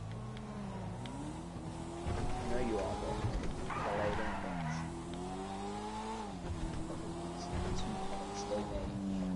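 A car engine in GTA 5 on PS4 revs up and down repeatedly while driving, with rising and falling engine pitch and a brief burst of tire noise in the middle, steady and close throughout.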